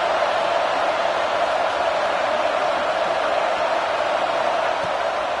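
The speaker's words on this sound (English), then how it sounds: "Decibels rising as the crowd gets behind this defense on third down." A stadium crowd at a JMU college football game roars steadily during a third-down defensive stand, a dense, sustained wall of cheering noise with no letup.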